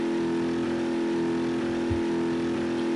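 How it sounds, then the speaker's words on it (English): A car engine in BeamNG.drive holds a steady, loud rev with a constant droning hum for about three seconds, slowly heating toward overheating, with no voices. "We go into manual mode, or real automatic, as is the case, and we rev the engine."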